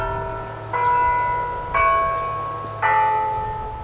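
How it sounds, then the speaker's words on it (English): A cemetery bell at Fort Gibson rings out three clear, resonant strikes about a second apart, each leaving a long humming decay over a low background rumble, with no voices. "Bells ringing after 10 years of a silent cemetery."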